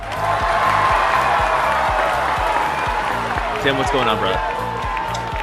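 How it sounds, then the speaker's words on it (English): Crowd cheering and applause used as a podcast intro effect, loud and continuous, layered over a thumping rhythmic music bed while a host speaks over it near the end. "Crowd goes wild, yeah."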